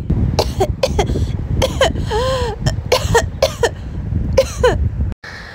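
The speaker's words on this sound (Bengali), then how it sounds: "তখন থেকে কেসেই চলেছিস" An animated character coughs repeatedly with some throat clearing: a string of sharp, close, voiced coughs in uneven bursts, including one drawn-out raspy cough, with a short silence at the end.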